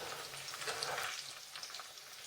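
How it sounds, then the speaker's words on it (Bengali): Fish roe fries gently in a pan with a quiet, soft sizzle and faint crackles, brief and steady, nothing else heard. "ডিমটা ভাজা হচ্ছে"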